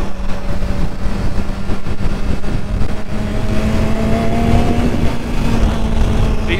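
A BMW S1000XR motorcycle engine hums steadily at around 6,000 RPM while riding, a continuous loud drone with wind noise and no speech.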